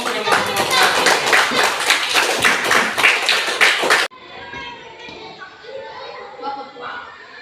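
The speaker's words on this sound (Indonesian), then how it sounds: "tepuk tangan untuk kelompok 1" A classroom of students claps for the first presentation group, brisk dense applause for about four seconds that cuts off abruptly, followed by quieter room noise and voices.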